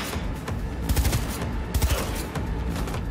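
Rapid bursts of submachine gun fire from a legendary SMG in Cyberpunk 2077, with two tight clusters of sharp shots standing out over a busy background of scattered gunfire and impacts.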